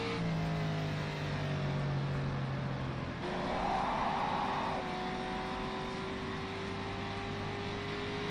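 Car engine in a 1954-era racing game, a sustained droning motor note that shifts pitch as the engine revs, steady and moderately loud with no voices.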